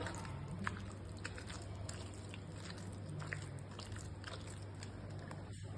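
Coarsely ground minced meat and raw egg mixed together in a bowl for burger patties, giving a steady, faint, wet squishing and kneading texture that continues throughout without speech.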